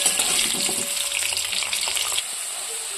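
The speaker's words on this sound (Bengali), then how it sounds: "আলুগুলো আমি একটু লাল করে ভাজবো।" Potatoes frying in a pan give off a dense, close hissing sizzle. During the first two seconds it runs with clattering stir noises and some low rumble, then it continues as a softer, steady sizzle on its own.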